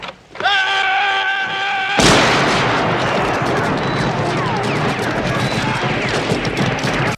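Gunfire erupts in the film Heaven's Gate: a harsh, loud burst of many overlapping shots, like a volley or fusillade, breaks in abruptly after a brief sustained musical tone and then keeps rattling on densely for several seconds.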